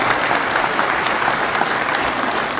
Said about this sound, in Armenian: խնդրեմ ծափահարություններով։